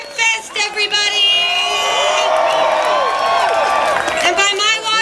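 An outdoor Hemp Fest crowd applauds and cheers, with whoops and shouts over a broad wash of clapping that stays loud for several seconds, and voices ringing out above it.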